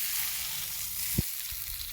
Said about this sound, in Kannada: ಇದನ್ನು ನಾನಿವಾಗ ತಯಾರಾದಂತಹ ಸಾಸಿವೆ ಮೇಲೆ ಹಾಕ್ತಾಯಿದ್ದೀನಿ